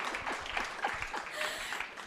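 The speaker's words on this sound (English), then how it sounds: "You can clap for me." Scattered, fairly faint claps from an audience at the 2024 Sasol League National Championships draw ceremony, with individual hand claps audible over a low murmur.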